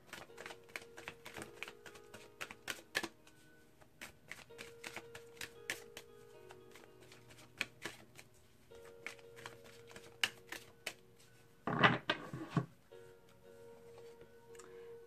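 Tarot cards are shuffled by hand in a quiet room, with soft irregular riffles and taps that come in bursts and one louder flurry of card noise near the end.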